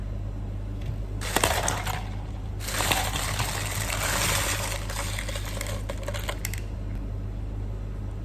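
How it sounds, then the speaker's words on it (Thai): Ice cubes clatter and crunch into a glass of honey lemon green tea in two bursts of rattling, close and fairly loud, over a steady low hum. "จากนั้นใช้น้ำแข็งเทตามลงไปเลยค่ะ"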